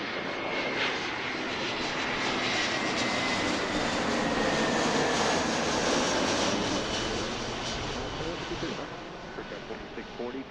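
A Frontier airliner at Philadelphia airport roars loudly and steadily as it passes nearby, a broad engine rumble that swells and then slowly fades.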